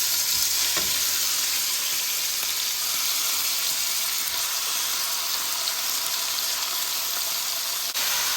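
Chicken vindaloo sizzles and fries steadily in hot oil in a pan, a dense, continuous close crackle that stays even throughout with no voices.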